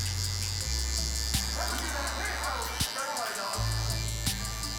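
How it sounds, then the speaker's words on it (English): Electric hair clippers buzz continuously at close range while blending a haircut, a steady droning hum with brief dips and small clicks, a voice speaking over it. "I'm gonna try to blend my clipper open section into that 1 open section"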